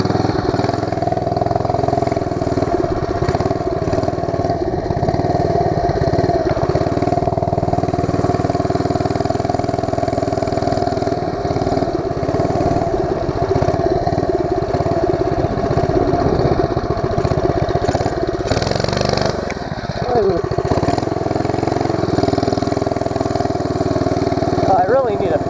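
A mini bike engine runs steadily through a night ride, a constant buzzing drone close to the microphone with slight shifts in pitch, under occasional talk.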